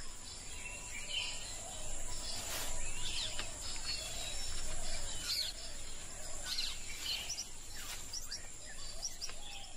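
Birds calling in Sri Lanka's rainforest, scattered chirps and short calls rising over a constant bed of insect and cricket buzz, fairly faint and distant with no talking.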